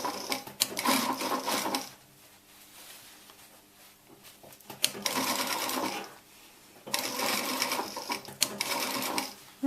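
A sewing machine stitches a seam on hot pants in two fast, loud, whirring runs, separated by a quiet pause, then a third run starts near the end.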